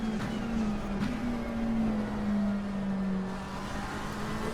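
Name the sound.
race car engine in Assetto Corsa Competizione video game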